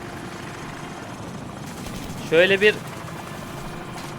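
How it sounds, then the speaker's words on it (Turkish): An enemy helicopter flying overhead in Call of Duty 4: Modern Warfare, a steady rotor drone throughout with a brief burst of sharper sound in the middle as a person speaks briefly. "Bu helikopter bizden mi onlardan mı?"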